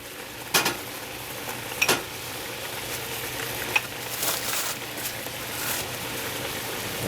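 Diced celery cooking in a pot of panfish gumbo, a steady crackling sizzle broken by a few sharp clinks and stirring scrapes, close and without talk.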